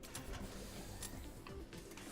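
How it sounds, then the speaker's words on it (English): A pill printer machine runs in the Big Pharma video game, a steady mechanical whirr with faint rapid ticking and a couple of soft clicks, fairly quiet and continuous. "Pill printer that will help my profitability out all over the place."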